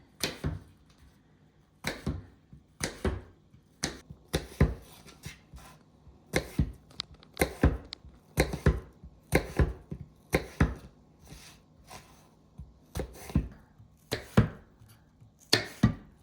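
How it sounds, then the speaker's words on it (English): Knife slicing through an apple on a cutting board, a series of crisp, sharp cuts and board taps in uneven rhythm, close and clear against near silence, no talking. "so that's how I normally cut an apple"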